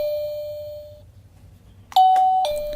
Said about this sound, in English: let's give the doorbell a ring and see how well it works